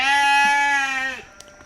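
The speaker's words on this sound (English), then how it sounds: "these sheep are getting impatient" A single loud, close sheep bleat, long and steady with a wavering tone, rings out in the woods during a move of sheep and lambs, then cuts off into quiet.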